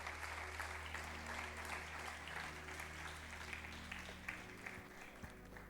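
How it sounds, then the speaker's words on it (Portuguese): A church congregation applauds together in a dense, steady wash of clapping that holds for several seconds, with faint voices mixed underneath. "levanta a tua mão e começa a aplaudir o Senhor"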